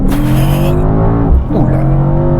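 A 612-horsepower Mercedes-AMG E63S blasts off under launch control, a loud close-up engine roar with a snarling surge, a quick upshift and a rising pull, heard from inside the cabin with no talking.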